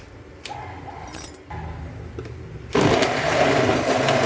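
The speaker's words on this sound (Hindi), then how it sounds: "अभी सब चीज के मिक्सी में दऽ देलियै" An electric mixer grinder blends spice paste for chicken biryani in a home kitchen. A few clinks and handling sounds come first, then the motor starts abruptly and whirs loud and steady until the end.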